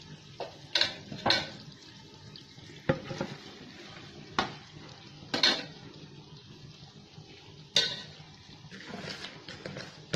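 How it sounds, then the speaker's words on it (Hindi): Half-cooked potatoes, softened tomatoes and fenugreek leaves are stirred in a pan with faint frying underneath, irregular scraping and clanking strokes standing out close by, no speech. "और ये मेथी डाल के इसको मिक्स करेंगे।"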